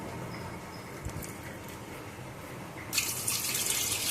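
Water is poured off washed potatoes in a kitchen sink, a steady running trickle that swells into a louder, brighter splashing rush near the end, with no talking.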